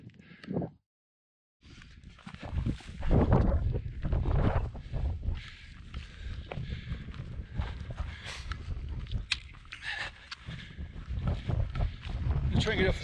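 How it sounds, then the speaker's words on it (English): Strong gusty wind buffeting the microphone on an exposed mountain ridge of the St Arnaud Range in New Zealand during an approaching thunderstorm, loud roaring bursts with a brief lull near the start. "It's getting windy now."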